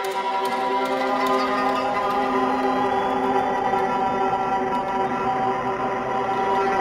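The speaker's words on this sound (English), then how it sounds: "I got some creepy string samples set up" Sustained, eerie string tones with dense layered harmonics drone steadily throughout, processed and slightly warbling, with no pauses or voices.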